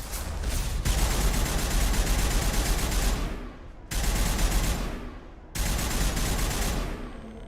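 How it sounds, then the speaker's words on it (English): Geth gunfire in Mass Effect roars in long sustained volleys, loud and continuous, cut by two brief pauses before each stream of shots resumes. "Oh, they're shooting at us again. Geth love shooting as they do."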